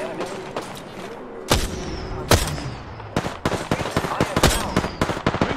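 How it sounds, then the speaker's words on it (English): Enemy gunfire in the shooter game Apex Legends, a series of sharp, loud gunshot bursts, sparse at first and then coming in rapid clusters, with a brief faint voice early on. "The enemies are shooting at me."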